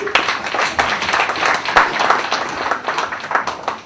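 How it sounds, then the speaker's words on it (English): Audience applause at a literary author interaction in Chandigarh, welcoming a poet: a steady patter of clapping hands filling the room for about four seconds at even strength, with scattered sharper claps standing out and no voices on top. "So a warm round of applause for Vijay ji."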